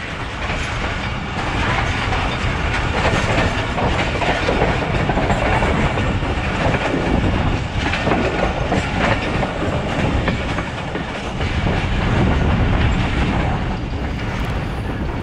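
Thal Express passenger train rolling on rails at about 30-35 mph, a continuous loud rumble and clatter of wheels from on board, steady throughout with a slight swell near the end.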